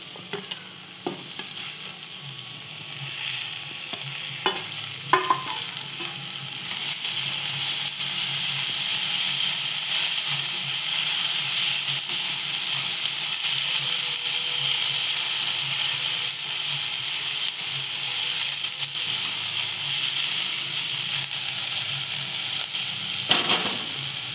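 Tomatoes drop into a pan of softened onions and fry with a steady, loud sizzle and hiss, broken by a few scraping stirs and clatters along the way.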